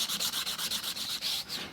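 Cured resin edges being sanded by hand in quick repeated strokes, a steady rhythmic rasp of about ten passes, close and alone with no voices.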